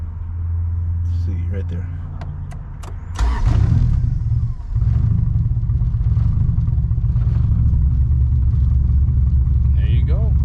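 A turbocharged Honda B-series engine in an EG hatchback fires up from a push-button start, cranking briefly before catching into a loud, steady idle rumble close by, with someone speaking briefly over it.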